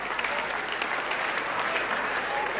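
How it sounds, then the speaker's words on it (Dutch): Fairly faint, steady applause from a crowd at a 1987 strongman competition in Friesland, cheering a competitor after his turn, with a murmur of voices under the clapping. "Applaus voor hem"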